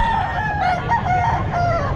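A full stag rooster crows at the Calumpit pet market, its hoarse, drawn-out call rising and falling over a low background murmur of market noise across two seconds.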